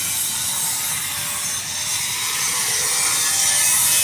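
An angle grinder with a flap disc scouring lifted paint off steel, a loud continuous harsh grinding rasp with a steady high whine, close and uninterrupted.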